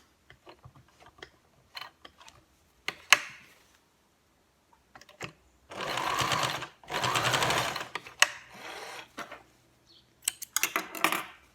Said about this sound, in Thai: เย็บไปให้สุดที่ว่าเราคลิปไว้นะคะ